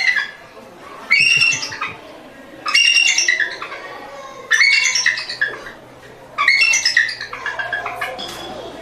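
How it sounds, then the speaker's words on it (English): A bald eagle gives four loud, close bursts of high, chattering piping calls, each a rapid run of squeaky notes spaced a second or so apart, with a quiet pause between them. "That is an actual eagle call"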